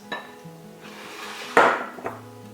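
A utensil clinks and scrapes against a bowl as bread bun dough is mixed with liquid, producing a few light knocks and one sharper clatter, close by and otherwise quiet.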